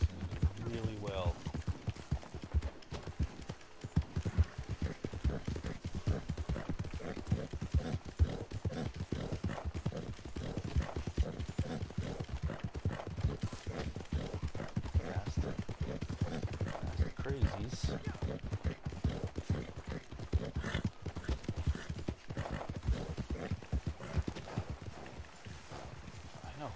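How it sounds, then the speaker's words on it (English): Hoofbeats of a Mustang horse galloping in Red Dead Redemption 2 pound in a steady, continuous rhythm throughout, with a voice talking at times over the running hooves. "I love my thoroughbred, but this Mustang seems to do really well."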